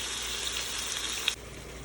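Ground beef empanada filling sizzles in a pan while being mixed, a steady close frying hiss with a brief scrape of stirring.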